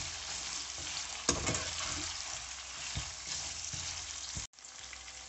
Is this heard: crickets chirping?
no